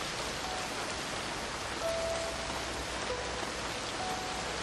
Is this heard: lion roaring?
no